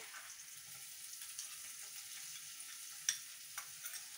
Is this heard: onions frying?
yes